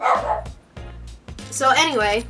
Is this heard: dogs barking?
yes